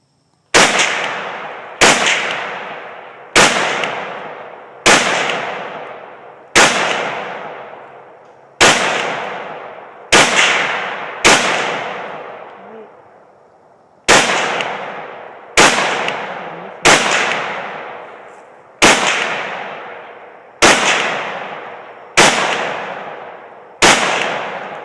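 Steyr AUG A3 rifle fired at a tannerite target outdoors, about fifteen loud sharp gunshots spaced a second or two apart, each trailing off in a long echoing decay across open ground.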